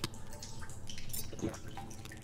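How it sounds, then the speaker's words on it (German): Water dripping inside a cave in the video game The Solus Project, a short run of close, clear drips over a steady ambient background. "Und hier gibt es auch Wasser."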